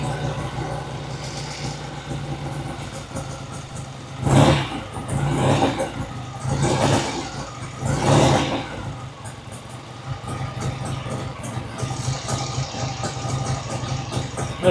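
1967 Triumph TR6 engine running just after its first start, a steady close rumbling idle with several brief revs swelling and fading in the middle before settling back to an even idle.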